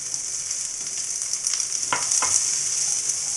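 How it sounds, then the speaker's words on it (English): Zucchini sizzles in a pan with garlic, giving a steady bright frying hiss with a couple of brief stirring scrapes near the middle, close and without any talk. "Now we are going to add zucchini."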